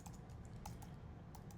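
Quiet, steady typing on a computer keyboard, a run of soft close keystrokes clicking along irregularly over a low background hum, with no talking.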